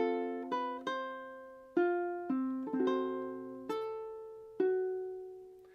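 A ukulele plays measures 19 and 20 of a song, sounding about eight distinct plucked notes and chords that each ring out and decay. Intimate, quiet and unaccompanied.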